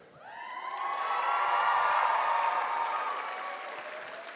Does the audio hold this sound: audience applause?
yes